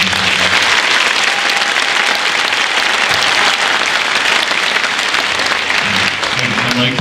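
A school winter band concert audience applauds the featured soloists, a loud, dense, continuous wash of clapping that fills the whole stretch without letup.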